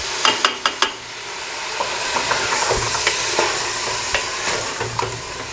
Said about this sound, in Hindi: भून रहे हैं हम इस गोश्त को